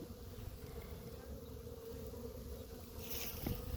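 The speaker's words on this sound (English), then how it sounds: "You can see some bees coming and going." Honey bees buzz around the entrances of small overwintered mating nucs, a faint, continuous hum with individual insects passing close now and then.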